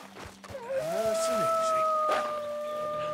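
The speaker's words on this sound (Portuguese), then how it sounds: "Lobos!" Wolves howl in a Wild West video game, rising and falling wails that overlap near and loud alongside game ambience, with a person talking over them.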